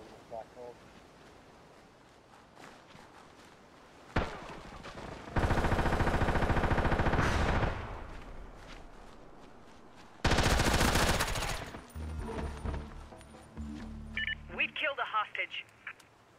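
Bursts of automatic gunfire from the tactical shooter game SOCOM Confrontation, two long loud volleys separated by quieter stretches with a player talking, followed by scattered shorter shots and electronic effects.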